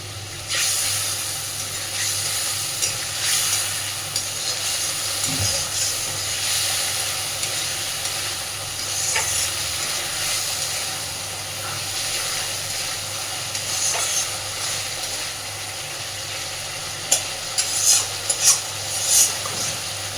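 Spiced masala and potatoes being sautéed in a pan for a Bengali stingray curry, a steady soft sizzle and hiss running throughout at moderate level, with a few sharper clicks and scrapes near the end.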